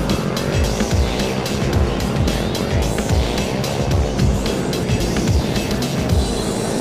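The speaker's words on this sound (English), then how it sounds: "JP Abendencio now leading this race with 2 laps down." Race vehicles at the 2014 Shell Advance Youth Cup Race of Champions in Davao City, loud and continuous with roaring engines and repeated whooshing passes close by.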